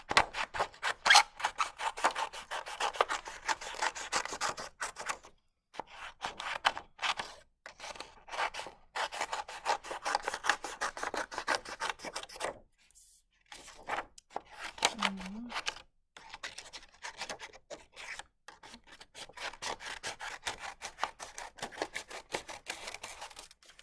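Scissors snip through paper strips in quick, dense bursts of crisp cuts, with a few brief pauses, close and steady for most of the stretch.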